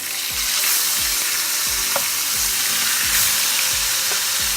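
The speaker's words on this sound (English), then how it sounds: "fry the fish. Cover it. Okay, flip the other side." Tel koi fish frying in a pan of hot oil, a steady loud sizzle with periodic low thumps and light clatters, no voices.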